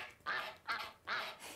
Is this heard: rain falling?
no